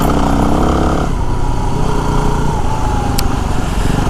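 Yamaha WR250R motorcycle rolls slowly over gravel, its single-cylinder engine droning close by at steady low revs, with the pitch easing downward partway through amid crunchy road and wind noise.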